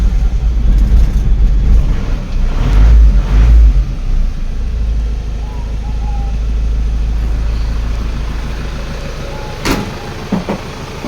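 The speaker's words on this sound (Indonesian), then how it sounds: "saya nyalakan dulu untuk mesinnya" A 2003 Isuzu Panther diesel pickup cranks and catches with a heavy low rumble, then settles into a steady, loud idle nearby, with a couple of faint clicks near the end.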